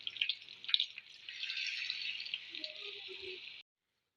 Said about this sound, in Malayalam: കുറച്ച് വെള്ളം ഒഴിക്കുന്നുണ്ട്